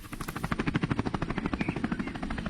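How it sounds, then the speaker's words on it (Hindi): Cartoon helicopter sound effect of a helicopter arriving, a loud rapid rhythmic rotor chop pulsing evenly throughout, heard alone. "तभी हेलीकॉप्टर की आवाज आने लगती है"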